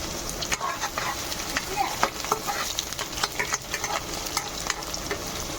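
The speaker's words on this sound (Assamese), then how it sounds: "প্ৰথমতে পিঁয়াজখিনি ফ্ৰাই হৈ লওক" Onions frying in hot oil on a new induction cooker, a continuous close, busy sizzle with frequent crackles and scraping stirs throughout, without speech.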